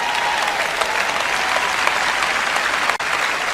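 A large audience at a Joyce Meyer sermon claps steadily and loudly throughout, a dense unbroken wash of applause with a brief dip near the end.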